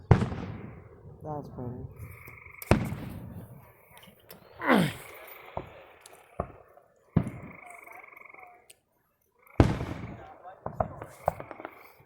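Fireworks going off at a West Jeff display: a few sharp, distant booms and cracks spread through the clip, heard among people talking and other background noise.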